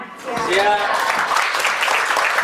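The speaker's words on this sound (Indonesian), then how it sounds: "sekali lagi tepuk tangan untuk PT Pembangkitan Jawa Bali" An audience at a closing ceremony in Surabaya applauds for a company, the clapping swelling quickly and holding steady while a voice rises briefly over it at the start.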